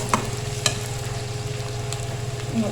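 Chopped onions sautéing in a pan, a steady continuous sizzle with a couple of sharp utensil taps near the start and no voices.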